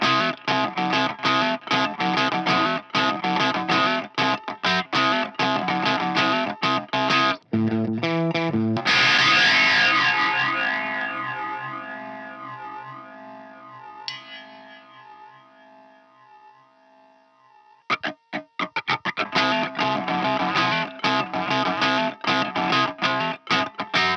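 An electric guitar played slowly through a PH2 effects unit works through the intro of a song: distorted, chorused strummed passages, then a long ringing chord with echo fading over several seconds before the choppy playing resumes.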